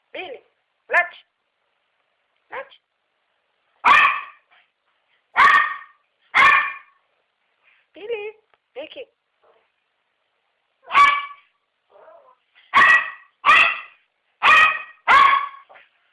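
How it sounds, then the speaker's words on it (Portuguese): A big dog barks repeatedly at close range in short loud bursts, some in quick clusters, with a few softer yips and whimpers in between; a person calls to it between barks. "Ai, que cachorro grande."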